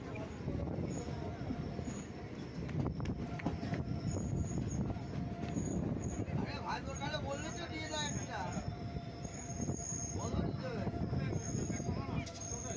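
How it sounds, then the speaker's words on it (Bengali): A passenger train pulling into a platform at Bethuadahari in Nadia, West Bengal, its wheels rumbling steadily with drawn-out wheel squeals as it slows, heard from on board at moderate volume while people talk nearby. "ট্রেন প্ল্যাটফর্মে এসে দাঁড়িয়ে পড়েছে।"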